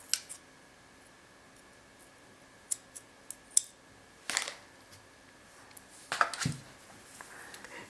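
Small scissors snip beading thread during earring beadwork. Several faint, crisp clicks and snips come separately, with two louder close cuts near the middle and later on.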